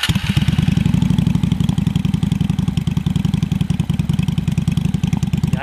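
A warmed-up Honda Shadow VT 600 bobber idles with its exhaust flap closed, giving a loud, close, even stream of rapid engine pulses that holds steady throughout.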